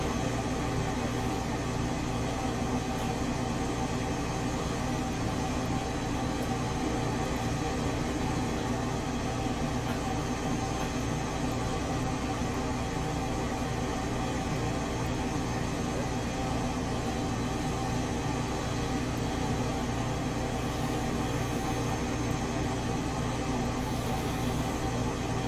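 Phenom 100 jet engines at takeoff thrust in Microsoft Flight Simulator, a steady, dense roar with a droning hum, unchanging and loud for the whole stretch.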